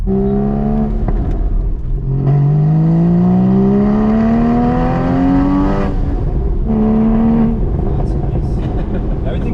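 A Porsche 981 Spyder sports car engine revs up with rising pitch, drops, then revs again briefly, loud and close, heard from inside the car.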